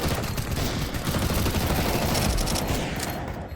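Dense, continuous gunfire from a shooter video game, sustained bursts of automatic fire at steady loudness throughout, with no talking over it.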